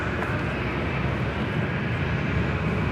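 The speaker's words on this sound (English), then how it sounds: "Delta Airlines Flight 2075 heading to Nashville into 737-800." Delta Air Lines Boeing 737-800 airliner, a continuous broad jet engine roar holding steady and fairly loud, with no voices over it.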